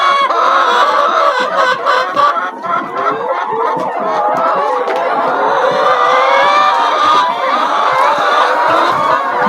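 Chickens cluck steadily and fairly close, a busy flock of hens with overlapping calls and a rooster's crow mixed in, continuous throughout.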